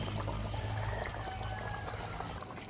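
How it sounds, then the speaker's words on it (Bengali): Lemon juice poured into a pan of simmering rohu fish curry, a soft continuous trickle over the steady bubbling of the cooking liquid, close and fairly quiet. "এখন দিয়ে দেবো আমি আরেকটু হালকা করে লেবুর রস।"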